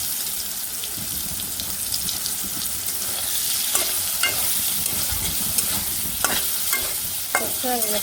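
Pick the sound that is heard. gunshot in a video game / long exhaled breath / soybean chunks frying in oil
soybean chunks frying in oil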